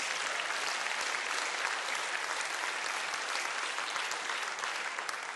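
A large audience at a student conference applauds steadily, dense even clapping sustained throughout with no voices over it.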